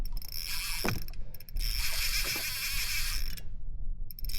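A fishing reel's drag buzzes and whirs steadily as pink braided line pulls off, with a brief pause partway through, loud and close.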